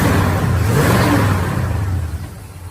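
A muscle car with dual exhaust revs up close, a loud throaty engine roar that swells and then fades as it eases off.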